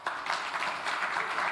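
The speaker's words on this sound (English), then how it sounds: "A big applause for this very impressive presentation that you have shared with us." Audience applause follows a talk on point-of-care 3D printing for personalized healthcare, a steady moderate wash of clapping running throughout with no speech over it.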